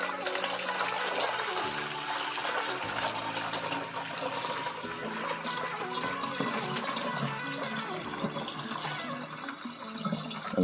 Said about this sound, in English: Okay, so now we're going to pour this water into here,